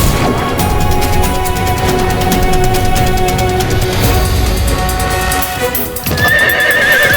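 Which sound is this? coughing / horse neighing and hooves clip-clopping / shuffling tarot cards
horse neighing and hooves clip-clopping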